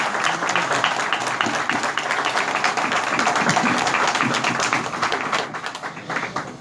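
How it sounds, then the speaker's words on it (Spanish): Audience at a popular economy gathering applauding for a speaker named Arroyo, a dense, sustained patter of many hands clapping, loud and steady before tapering off at the end. "un aplauso para el compañero"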